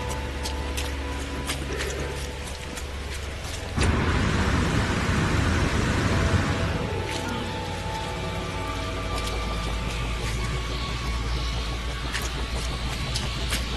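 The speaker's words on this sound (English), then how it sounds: "Weather warning. Incoming storm. Oh shit, there's a rainstorm." A rainstorm with thunder in the game No Man's Sky arrives as a sudden loud wash of rain that swells for a few seconds and then settles back under steady ambient game tones and a low rumble.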